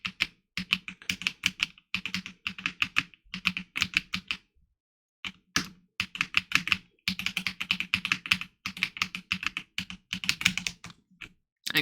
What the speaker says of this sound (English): Now that I have the clacking of the keyboard